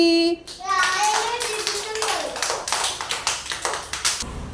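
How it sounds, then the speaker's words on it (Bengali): A burst of hand clapping, rapid and steady, rising in after a short sung tone and continuing for several seconds close by. "হাততালি"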